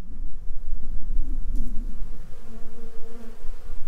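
Bees buzz in a low, fluctuating drone around a hive fitted with a pollen trap, several insects humming close by with wavering pitch and no voices.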